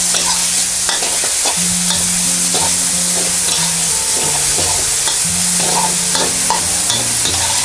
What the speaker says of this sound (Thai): ให้เราใส่พริกทั้ง3สีของเราลงไปเลยค่ะเดี๋ยวเราผัดนะให้พริกทั้ง3สีของเราค่ะสุกก่อนค่ะ